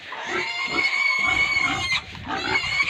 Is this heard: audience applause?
no